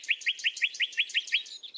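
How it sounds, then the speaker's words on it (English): A nightingale sings a rapid run of about eight identical bright, sweet chirps in a steady rhythm, followed by a short trill, clear and fairly close with no other sounds. "The bird, famed for its melodious song, is in decline."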